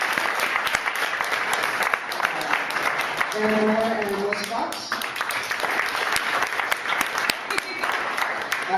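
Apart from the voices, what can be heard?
audience applause for performers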